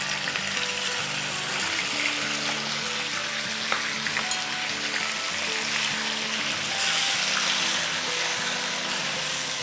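Bone-in chicken, two pounds, frying in a karahi, giving a steady close sizzle and crackle throughout with no talking.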